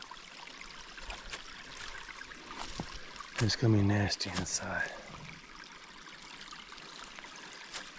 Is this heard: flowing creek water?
yes